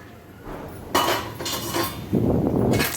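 A metal lid clatters and scrapes onto a pot of cooking coconut sweet rice, several close, loud bursts of rattling metal on metal spread over a few seconds, with no voices.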